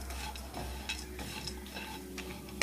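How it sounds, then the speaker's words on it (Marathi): Cashews roast in homemade ghee with steady stirring, giving repeated soft scrapes and light ticking clicks of a spoon against the pan over a quiet, gentle sizzle, close up and with no voices. "आता मी काजू भाजून घेते।"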